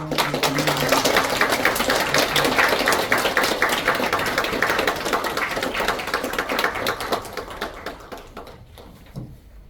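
Church congregation applauding at a Korean Presbyterian ordination service, dense sustained clapping that fills the room and then thins out and fades toward the end.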